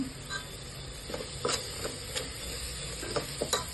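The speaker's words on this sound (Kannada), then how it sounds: "ಜೀರಾ ಪೌಡರ್ ಹಾಕ್ತೀನಿ. ಫ್ರೈ ಮಾಡ್ಕೊಳ್ಳಿ." Cumin powder, turmeric and kasuri methi fry in a pan for dal fry, giving a quiet, steady sizzle broken by a few soft stirring scrapes.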